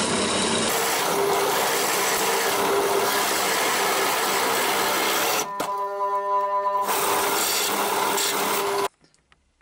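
A Parkside 500W bench pillar drill with a blunt 5mm bit cuts through a 10mm aluminium bar. The motor whirs loud and steady and grinds as the bit bites, then a brief higher-pitched harmonic whine sounds before it stops abruptly.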